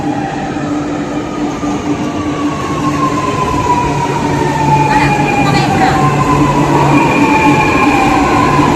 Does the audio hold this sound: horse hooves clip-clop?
no